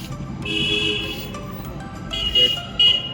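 A road near Panhala fort in Kolhapur carries a low rumble of passing vehicles, broken by several short, bright horn toots, some overlapping, at moderate distance.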